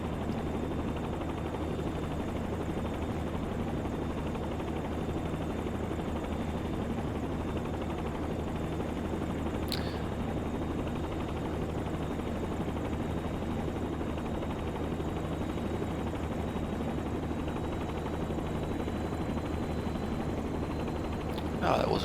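Steady helicopter engine and rotor drone from a flight simulator game, constant and fairly quiet throughout, with a brief click partway and someone talking faintly over it.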